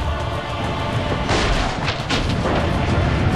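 Cannon fire in Assassin's Creed: Brotherhood, with deep booming blasts and crashing impacts rising over a constant rumble of battle noise, fairly loud and continuous throughout.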